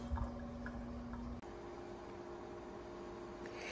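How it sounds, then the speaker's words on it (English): A washing machine on its spin cycle runs in a small cottage. It gives a faint, steady whirring hum with a soft hiss, and a brief bump partway through. "I have the washer running. It's on the spin cycle, so it's a little bit noisy at the moment."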